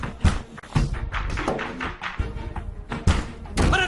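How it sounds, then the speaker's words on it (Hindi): Heavy, repeated thuds and bangs on a door by someone threatening to break it down, arriving in an uneven series of loud knocks over a dramatic scene with a busy, dense background. "मैं दरवाजा तोड़ दूंगा।"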